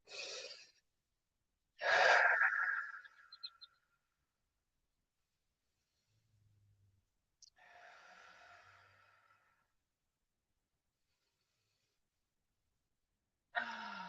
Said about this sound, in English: Let's take 3 deep breaths in through the nose, out through the mouth.